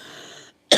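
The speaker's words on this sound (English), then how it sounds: "there's that cough." A single harsh chest cough from a congested person, close and loud, comes right after a short breathy pause.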